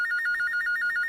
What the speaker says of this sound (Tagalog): kinsa pa ning nanawag sa telepono?